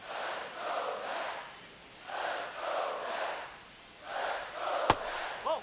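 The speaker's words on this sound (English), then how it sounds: "Crowd finally into it now." A stadium crowd in a baseball video game swells in three broad waves of cheering, distant and moderately loud, with a sharp brief crack near the end.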